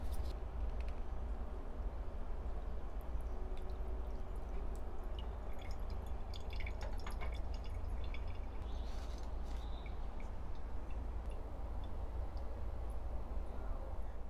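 Liquid natural pigment made from ground rocks drips through a filter and strainer into a jar, a continuous soft trickle with scattered small drips over a steady low background hum.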